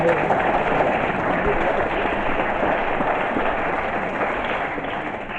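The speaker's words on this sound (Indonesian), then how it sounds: "Mari kita tepuk tangan untuk kita semua." Audience applause at an official gathering in Maybrat, a continuous dense wash of clapping from a crowd, loud and steady across the whole stretch, easing slightly at the end.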